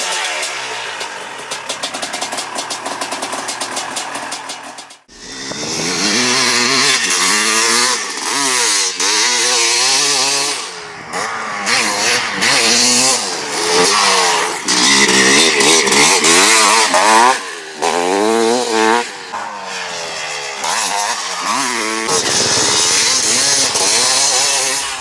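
A KTM 500 MX single-cylinder motocross bike engine revs hard and loud, with rising and falling throttle sweeps, a short break near five seconds, then repeated high-rpm bursts and gear changes close by.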